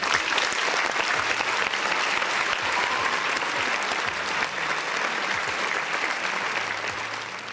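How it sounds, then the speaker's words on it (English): A round of applause fills the clip, dense and steady clapping from many hands that stays loud throughout and fades slightly at the end. "round of applause for the folks in the chat"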